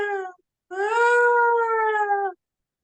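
A person's voice imitates a siren: a short tone, a brief pause, then a longer sustained wailing tone that rises slightly and holds steady. It is loud and close, with no other sounds around it.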